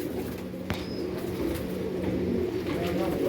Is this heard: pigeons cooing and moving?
yes